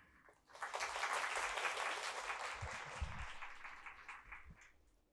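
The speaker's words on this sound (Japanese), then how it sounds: "それでは皆様、どうぞ温かい拍手でお迎えください。" An audience at a tech conference in Japan claps steadily to welcome a speaker to the stage, a dense wash of applause that swells quickly, holds, then tapers off.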